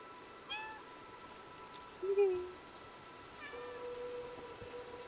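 Several short cat meows in a video game, a stray cat in an overgrown ruined city, sounding over a steady low ambient hum with a soft background tone, one louder mid-clip call and fainter ones around it.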